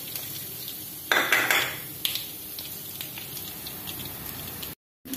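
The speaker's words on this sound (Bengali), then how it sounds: "এই যে অল্প মেথি দিলাম ফোড়নে। দেব অল্প কালো জিরে, একটা শুকনো লঙ্কা" Fenugreek seeds, black cumin and a dried red chilli dropped into hot oil for tempering a mango chutney, giving a sharp crackling sizzle that swells for about a second and then settles into a low steady frying hiss with light utensil clinks.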